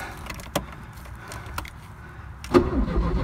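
Porsche 944 engine being started after a jammed ignition switch and old starter were suspected, heard as short cranking bursts followed by the engine catching near the end, close by with no talk.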